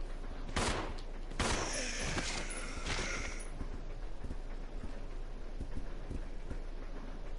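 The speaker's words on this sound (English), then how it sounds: "his gun is a little bit more powerful than Rebecca's" Gunfire in the Resident Evil 0 video game: a cluster of sharp shots early on, then a thinner run of lighter clicks and reports over a steady game background.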